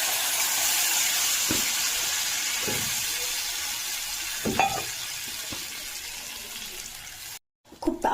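Mustard paste sizzling and frying in a pan with fish, a loud steady hiss that slowly fades, broken by a few soft stirring knocks and a brief cutout near the end.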